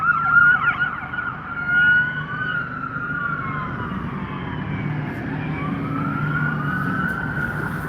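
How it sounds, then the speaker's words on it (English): An ambulance siren wails up and down continuously, loud and fairly close, sweeping in long rising and falling tones over traffic rumble in downtown Mt. Pleasant, Michigan. "Oh, there's the ambulance."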